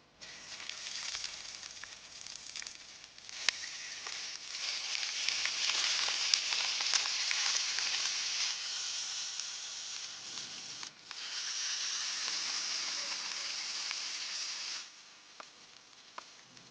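Lamb ribs, boiled until mostly cooked, hit a hot pan of oil and fry with a loud, steady sizzle. It dips briefly about two-thirds through, then surges again, with a few sharp crackles along the way.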